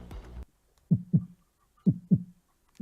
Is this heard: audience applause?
no